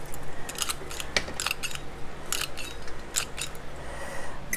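Scissors snip repeatedly through wild lettuce plant matter being cut up for a tincture, crisp irregular clicks close by over a quiet room background.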